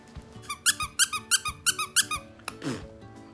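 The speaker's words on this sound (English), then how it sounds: "fetching squeak toys, like this one" A squeaky toy squeaked about a dozen times in quick rhythmic bursts, followed by a brief rustle and a low, drawn-out squeal.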